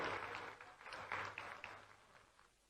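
An audience in Indore applauds Chief Minister Shivraj Singh, a faint, distant wash of clapping that swells in patches and then gradually fades.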